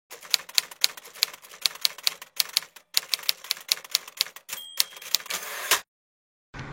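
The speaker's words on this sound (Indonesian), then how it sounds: "Sayuti Melik pun mengetik teks tersebut." Rapid clacking keystrokes on a typewriter, in irregular bursts of sharp strikes with brief pauses and a final carriage-like ratchet before stopping, close and loud with no talking.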